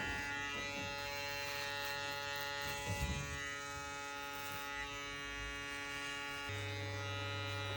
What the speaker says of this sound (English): now we're going in with our trimmer and establishing our first guideline